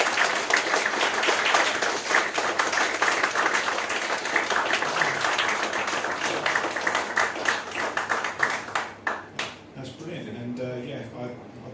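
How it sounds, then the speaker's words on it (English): A studio audience claps in a dense, steady round of applause that thins toward the end, with a voice speaking as it fades. "Give yourselves a round of applause."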